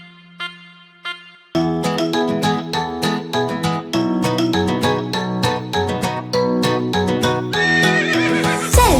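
A cartoon horse sound effect in a Hindi children's rhyme: rhythmic clip-clop hoofbeats under bright, busy music, ending in a loud, whinnying neigh that swoops in pitch near the end.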